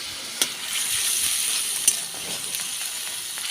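Onion paste with cardamom and cinnamon fries in hot oil for a rohu fish curry, giving a continuous close sizzle with a few sharp clinks of a stirring spoon.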